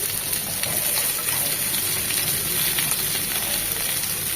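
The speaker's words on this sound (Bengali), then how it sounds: "আরও 1 চামচ সরষের তেলে আমি বেগুনগুলো ভেজে নেব।" Brinjal pieces frying in mustard oil for a pabda fish chachhari give a loud, dense, continuous sizzle up close, steady and hissing with no voices over it.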